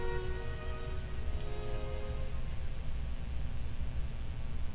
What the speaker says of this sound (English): That rain is just awful.